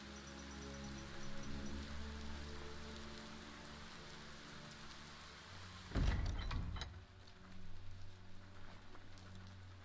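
Steady rain falling in the video game Biomutant, a dense continuous patter on surfaces with a brief louder rumble partway through, no voices.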